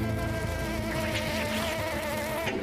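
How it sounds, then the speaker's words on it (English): An enormous American wasp buzzes loudly and continuously close by, a steady droning hum with no voices. "Oh my God, what is that? That is a wasp."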